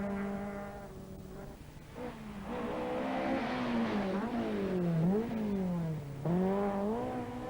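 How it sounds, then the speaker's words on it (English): Opel Ascona rally car racing on a stage in the early-1980s rally scene, its engine note climbing and dropping through repeated revs and gear changes, loud and close throughout with no talk. "Mark Reynolds' Opel Ascona is going well."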